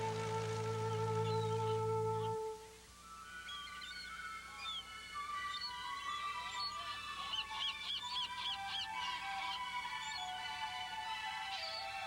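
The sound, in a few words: seagulls and puffins at seabird colony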